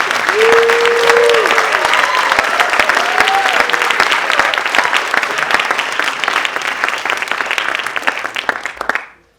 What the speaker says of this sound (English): Let's give them a big round of applause for all the hard work.